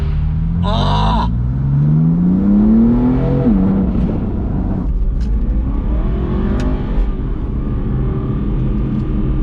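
An Aston Martin V8 Vantage revs on Tennessee mountain roads, its engine note rising through a gear before a quick drop at the shift, then rumbling on with road noise; a brief excited shout breaks in near the start.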